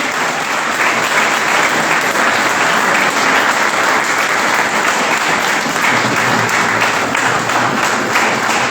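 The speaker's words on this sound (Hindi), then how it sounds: "तालियां थोड़ी जोर से बजनी चाहिए।" Steady, loud applause from a workshop audience fills the whole stretch, a dense continuous wash of many hands clapping with no talk over it, honouring a chief guest.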